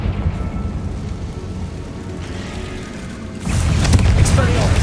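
Confringo fire spell blasting in Hogwarts Legacy, a steady rumbling game soundscape that swells into a loud, bright burst near the end, with a voice calling spells around it.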